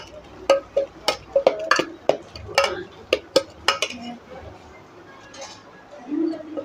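Leftover idli batter mixed with chopped onion and green chilli in a steel vessel, a run of sharp spoon-on-metal clinks and knocks in quick succession, then quieter scraping toward the end.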